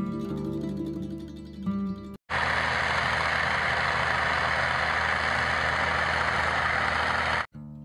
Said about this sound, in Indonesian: Ini namanya mobil bulldozer ya teman-teman